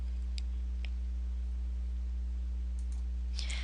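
A computer mouse clicks a few times, sparse and sharp, as it is used in a Google Analytics dashboard, each click clear over a steady electrical hum with no talking.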